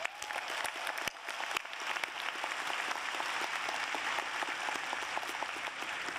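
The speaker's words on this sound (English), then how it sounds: "So let's get a round of applause for surviving a pandemic and making it to graduation." Sustained, dense applause from a large crowd at the 2022 UCLA College commencement in Pauley Pavilion, steady and loud throughout with a few sharper claps and faint cheering.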